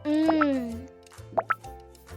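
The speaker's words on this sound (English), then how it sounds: "Pop the bubbles with the sound" Cartoonish bubble pops in a kids' phonics app game, two or three quick plops standing alone between short bursts of a synthesized voice.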